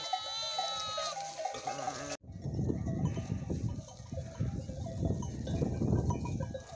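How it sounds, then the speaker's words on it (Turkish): A small lamb that has lost its mother, among farm livestock, gives a drawn-out wavering bleat, then the scene cuts to a busier mix of animal shuffling, clinking bells and scattered bleats close by. "Bu küçük kuzuyu da yeni saldım ama annesini kaybetmiş yine."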